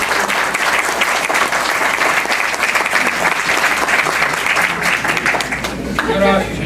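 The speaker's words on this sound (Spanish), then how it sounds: "Vamos a renovarle un fuerte y caluroso aplauso al maestro Víctor García" Loud, sustained audience applause for the jurist Víctor García at a book presentation, a dense, steady roar of clapping throughout, with a voice briefly audible near the end.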